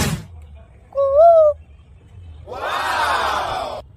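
A person imitates the call of an Asian koel with a short, clear whistled note that rises in pitch. After a pause, a longer, louder and rougher vocal cry follows close by.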